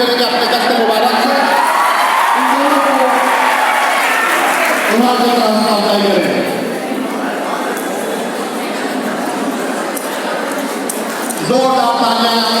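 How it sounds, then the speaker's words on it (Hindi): An audience claps and cheers at a school prize distribution for an Independence Day programme, with loud sustained applause and crowd noise mixed with a speaking voice over a PA. "जोरदार तालियां।"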